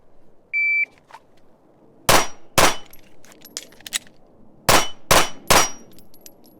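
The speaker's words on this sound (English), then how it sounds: "We're just shooting a little itty bitty steel here" Ruger RXM pistol fires a quick five-shot string at small steel targets, sharp reports in two tight bursts of two and three, each with a bright ringing clang of struck steel, outdoors with no talking.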